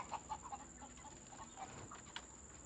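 Chickens about 20 days old on a poultry farm cluck in a soft, scattered chatter, faint and somewhat distant over low background noise.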